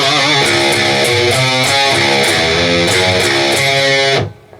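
A distorted electric guitar chugs through a riff, thick and loud with steady picked low notes and hammer-ons, then cuts off abruptly near the end.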